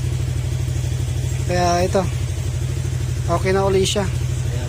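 A Honda Click125 motorcycle engine idles steadily after an overhaul, a low even running note heard up close under someone speaking briefly.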